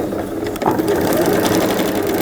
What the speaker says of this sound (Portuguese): E aqui eu vou costurar.